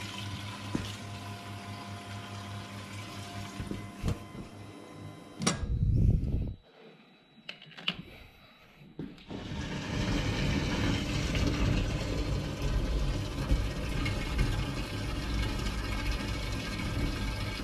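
A Walbro 450 fuel pump sends a strong stream into a container, with broken rushing and spattering at first, a brief lull, then a loud steady gush of liquid that holds to the end, close by, with no talk.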